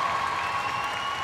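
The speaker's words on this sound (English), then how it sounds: "would you give a round of applause for Scotland?" A crowd at the Crufts 2012 heelwork to music freestyle competition applauds steadily, a dense wash of clapping throughout with no voices standing out.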